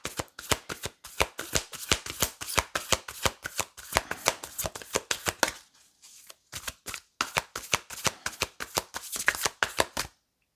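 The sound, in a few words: shuffling tarot cards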